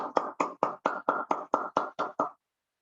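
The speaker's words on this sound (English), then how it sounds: "Let us give him a special round of applause." About ten evenly spaced claps ring out at a meeting, crisp and close, a brief measured round of applause that stops abruptly into silence.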